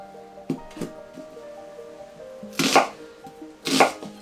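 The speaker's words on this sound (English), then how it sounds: "Just cutting in some onions." Onions are sliced for jollof rice in a few sharp knife chops: two quick light cuts, then two heavier, louder strikes spaced about a second apart, over faint background tones.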